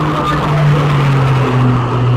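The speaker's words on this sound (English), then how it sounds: "Drifting in a race truck." A MAN race truck engine with 1,100 brake horsepower drones loudly and steadily as it drifts around a racing circuit, the pitch shifting slightly in one continuous roar.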